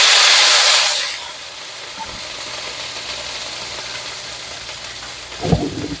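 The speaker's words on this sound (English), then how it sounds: "And now we're going to add in the liver, the beef liver." Beef liver hits a hot pan for a loud burst of hissing sizzle that quickly settles into a steady, softer frying crackle, with a brief clatter near the end.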